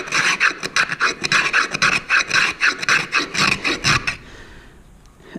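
Rapid rhythmic rasping strokes as wood is shaved by hand for a long box turkey call, about two dozen close, even passes, then stopping abruptly into quiet room tone.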